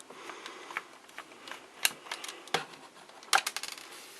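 Small metal screws from an old N64 controller clicking and rattling as they are handled and gathered together, faint scattered ticks with a few sharper clinks.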